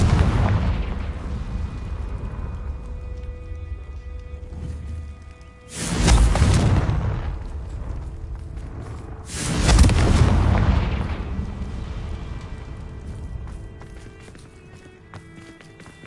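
Two heavy booming blasts from the Confringo fire spell in Hogwarts Legacy, each a loud deep explosion rumbling out over a second or so, with a quieter magical hum and whooshes between them.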